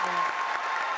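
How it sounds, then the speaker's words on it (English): Brief burst of audience applause at a national spelling bee final, a dense patter of clapping from a large hall crowd, steady and moderately loud for about a second. "let's hear this crowd"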